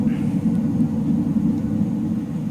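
JustFlight Hawk T.Mk.1A jet trainer lifting off in Microsoft Flight Simulator, a steady low engine rumble holding at even loudness throughout with no other sounds over it.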